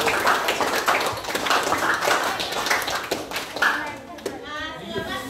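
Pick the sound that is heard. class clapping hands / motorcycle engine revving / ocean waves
class clapping hands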